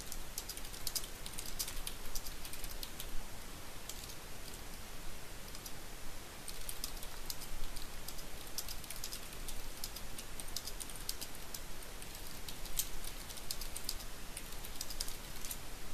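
Fast, steady clicking of keys as a chat message is typed on a computer keyboard, close and continuous for a long stretch with irregular bursts of keystrokes and no speech.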